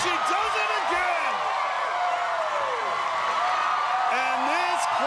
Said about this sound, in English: And this crowd loving it.